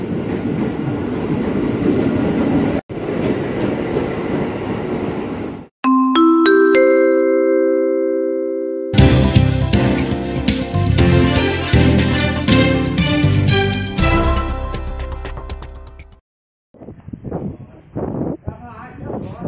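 Two KRL commuter trains roll out of the Depok depot one after another, giving a loud close rumble broken by abrupt cuts, sustained horn-like tones and bursts of rattling wheel noise.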